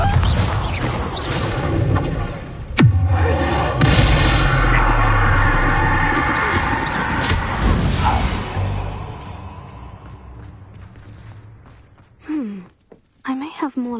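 Bombarda blasting spells going off in Hogwarts Legacy, loud booming bursts with a sharp crack near three seconds over a dense rumbling bed, fading out and breaking into faint scattered sounds toward the end.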